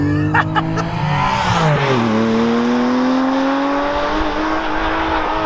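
A Porsche Cayman GTS 4.0's naturally aspirated engine screams above 7,000 RPM, its pitch sliding down then climbing steadily again, loud and close, with a few sharp pops at the start.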